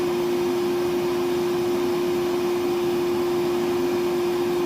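A Milwaukee M12 1.6-gallon wet/dry vacuum, model 0960-20, runs on an M12 9Ah battery at reduced power, giving a steady continuous whine with a strong tonal hum and broadband airflow noise.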